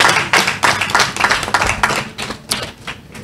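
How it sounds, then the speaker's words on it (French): An audience at the final round of a foundation competition claps in brisk, uneven bursts of sharp, close slaps that thin out toward the end, with no talking. "On l'applaudit, s'il vous plaît, on l'applaudit."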